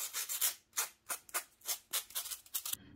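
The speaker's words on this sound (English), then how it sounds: "I'm going to go ahead and sand this right here to make it even." A styrofoam ball is sanded by hand in short, uneven back-and-forth strokes, soft close scratchy rubs with brief pauses between them and no talking.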